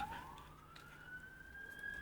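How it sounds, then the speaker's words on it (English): A siren wails steadily, its pitch slowly rising, moderately distant over a low rumble of background noise. "now we've got sirens going"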